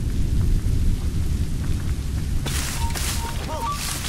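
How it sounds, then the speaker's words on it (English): Heavy rain pours steadily in a thunderstorm in the video game Assassin's Creed Rogue, with deep rolling thunder underneath and a brighter burst of rain and wind joining halfway, plus a few faint tonal game sounds. "The storm's getting worse."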